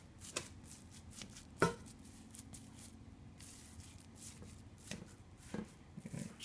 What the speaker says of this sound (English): Now what you're going to do is you're going to chop your meat.